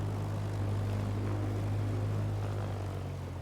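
A Piper propeller aircraft engine in a flight simulator game drones at a steady low idle while taxiing, a constant close hum with no speech.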